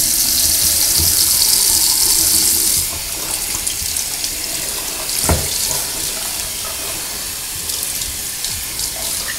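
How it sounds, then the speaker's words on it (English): Tap water runs steadily over adidas and Crocs clog slides being rinsed in a sink, a loud continuous splashing hiss that changes tone partway as the stream hits the shoe, with no talk. "when I turn on the water to actually rinse it"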